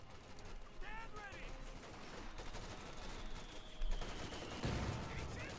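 Machine guns rattle in a Company of Heroes 2 battle, with short bursts of gunfire at moderate distance under a commentator's continuous talk.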